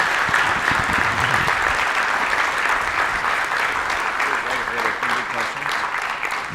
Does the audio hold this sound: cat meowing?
no